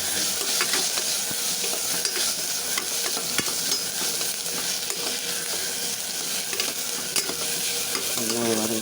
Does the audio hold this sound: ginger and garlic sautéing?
yes